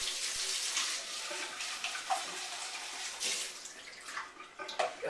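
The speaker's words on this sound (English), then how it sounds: "We're going to rinse with hot water." Hot water runs steadily from a kitchen tap as a container for yogurt or milk is rinsed, a continuous close splashing rush with small sloshes throughout.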